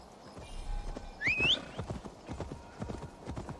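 Hoofbeats of a horse galloping away in the Assassin's Creed Valhalla video game, quick clip-clop steps under steady background noise, with a brief whistle-like tone in the middle.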